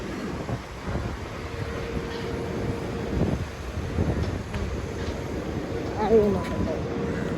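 An MRT train rumbles along near Marina Bay in Singapore amid a steady outdoor city background, with wind buffeting the microphone and low voices now and then.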